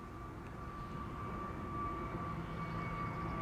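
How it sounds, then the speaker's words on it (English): An EasyJet Airbus A320neo airliner departs, its engines producing a steady, broad roar with a faint whine, holding loud and even throughout without any voices. "This is an EasyJet A320neo Tunis"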